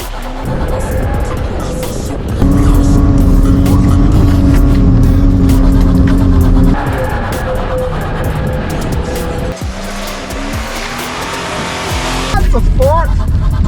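A Ford BA Falcon bush bashing off-road, its engine droning loud and steady with shifting revs, tyres scrabbling over rough trail, and a voice talking over the noise.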